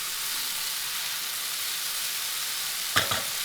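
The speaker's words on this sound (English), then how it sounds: "give it a stir, and you can see there, they're starting to get some color onto them" Mushrooms fry in a pan with a steady broad hiss of sizzling, then a short scrape and clatter near the end as they are stirred, close and even, with no speech.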